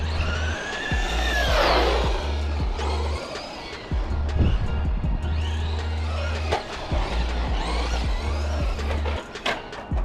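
A Traxxas Mini Maxx RC truck run at top speed down a street, a high electric motor whine rising and falling in bursts with tire noise and clatter, fairly close and loud.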